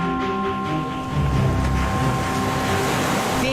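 Sea water rushes and surges into the Stambheshwar Mahadev temple at Kavi Kamboi, Gujarat, as a steady, loud, close wash of churning water with wind buffeting the microphone throughout.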